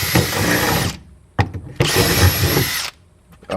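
A power drill bores holes for a K Tuned billet shifter plate in two loud, sustained whirring bursts, close by, separated by a short pause with light clicks.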